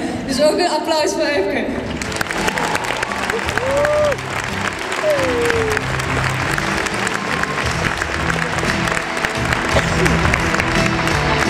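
A gymnastics gala audience in an arena gives warm, dense applause mixed with cheers and whistles, a rolling crowd roar that stays loud and continuous, with a voice heard briefly at the start.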